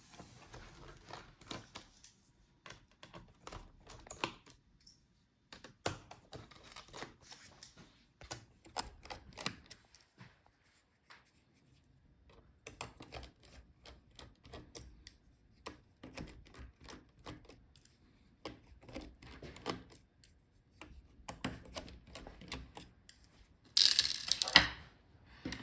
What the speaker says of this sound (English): Now take out all the screws from the motherboard.